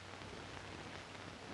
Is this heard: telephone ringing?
no